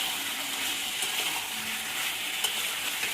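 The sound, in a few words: chicken being stir-fried (kosha) in a pan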